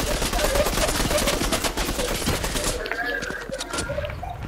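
Rapid gunfire from another player in a shooter game, dense bursts of automatic shots rattling continuously with brief pauses, loud and close.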